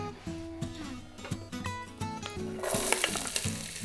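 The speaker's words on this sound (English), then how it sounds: "Saute this around for just a couple of minutes till it's nice and soft and brown" Onion sautéing in lard in a pot for pork posole, a soft sizzle beneath a tonal music bed, growing louder and brighter toward the end.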